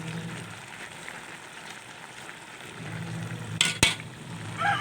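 Bok choy (pechay) sautéing in a pan for a Filipino ginisang pechay dish gives a steady low sizzle with soft stirring, plus a couple of sharp utensil clinks near the end.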